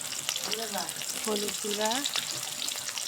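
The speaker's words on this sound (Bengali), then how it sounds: "সয়াবিন গুলো আমরা তেলে দিয়ে দিব।" Soybean chunks fry in hot oil, giving a steady, soft sizzle under a person talking about adding turmeric powder for a home-style Bengali curry.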